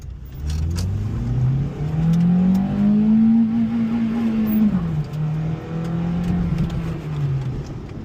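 An Acura RSX accelerates from a standstill on a Calgary street, engine note climbing steadily, briefly easing at a shift, then holding a strong rev, fairly close and loud with no talk.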